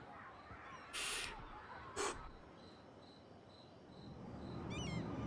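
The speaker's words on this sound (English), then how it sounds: "Out here in the suburbs, you actually hear the crickets chirping." Night in a Cities: Skylines suburb, with faint, evenly repeated cricket chirps over a quiet ambient bed, interrupted early on by two short, sharp louder bursts.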